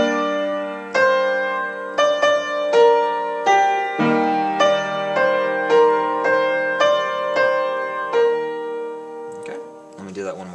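The right-hand part of a song plays on a keyboard, a steady series of rhythmic chord strikes and melody notes, loud and alone with no talking.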